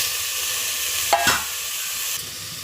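Mutton pieces dropped into hot ginger garlic paste with turmeric, a steady sizzle with a brief burst of spatter and stirring in the middle before the frying settles back to an even hiss.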